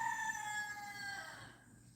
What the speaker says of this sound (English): He is a really pretty rooster.